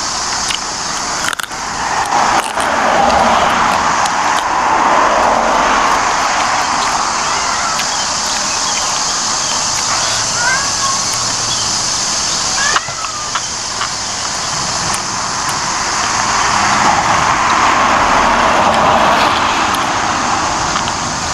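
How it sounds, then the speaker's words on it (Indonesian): Cars passing on a road in Taiwan, a steady loud traffic roar with vehicles swelling and fading as they go by. "Sambil lihat mobil lalu lalang."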